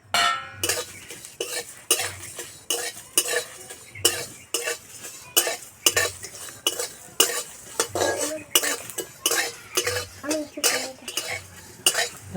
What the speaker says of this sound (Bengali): এখানে গোটা গরম মশলা সব একসঙ্গে ভেজে নেব